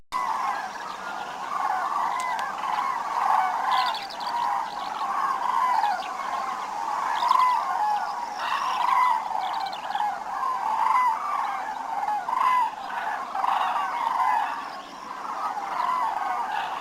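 A flock of migrating herons (cranes) that breed from northern Sweden to Russia, wintering in wild Iberia, calling continuously in a dense overlapping chorus of honking cries, moderately distant, with no talk.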